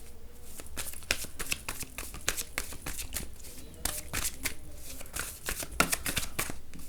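Tarot cards shuffled by hand in a steady run of crisp riffling bursts and soft slaps, close and fairly loud, with no talking.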